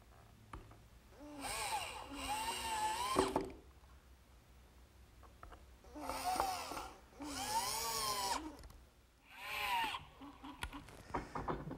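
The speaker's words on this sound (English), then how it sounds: "I'm ready to set this piece in place and fasten it to the frame with some screws." A power drill drives screws into a wooden workbench frame: three close, loud bursts of whining motor, each climbing in pitch, separated by brief pauses, with no talking.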